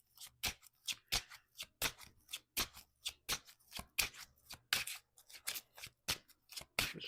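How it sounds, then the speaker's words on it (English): A tarot deck shuffled by hand in quick, crisp riffling bursts, each lasting a fraction of a second and separated by short pauses, close and clear against a quiet room. "Just shuffling."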